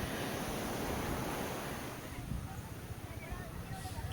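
Sea waves at Dhanushkodi beach, a broad steady wash of surf with wind rumbling over the microphone, continuous and fairly close, easing slightly in the second half.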